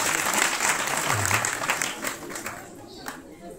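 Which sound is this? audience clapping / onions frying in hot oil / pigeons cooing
audience clapping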